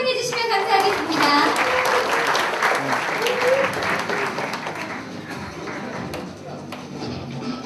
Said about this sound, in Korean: 이 시연을 박수로 환영해 주시면 감사하겠습니다.